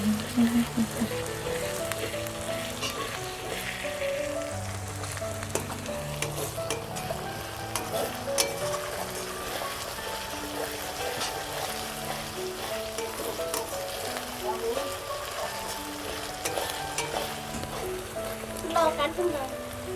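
Ginger and garlic frying for a chicken curry hiss in a steady, dense sizzle with faint crackles that run unbroken throughout, close up, with a voice in the background.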